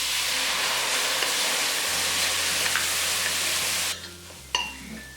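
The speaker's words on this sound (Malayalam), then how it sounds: "പുളി പിഴിഞ്ഞ് വെച്ചിരിക്കുന്ന വെള്ളം ഇതിലേക്ക് ഒഴിച്ചു കൊടുക്കാം." Loud sizzling and frying hiss from a hot pan of sambar, which drops away before a sharp burst of hissing as tamarind water hits the pan.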